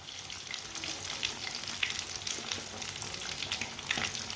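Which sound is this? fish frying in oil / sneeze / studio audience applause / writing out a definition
fish frying in oil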